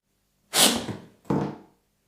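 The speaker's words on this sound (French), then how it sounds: "pour lancer le traîneau, il suffit d'armer le système et d'appuyer sur le bouton vert" An electromagnetic rail launcher powered by a supercapacitor bank fires its sled, a sharp loud thunk followed by a second heavy bang a moment later, close and with nothing else around it.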